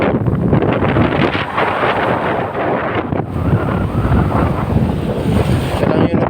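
Rough sea waves surge and crash without pause in stormy weather, with strong wind buffeting the microphone throughout, loud and close, as a boat sits on the water.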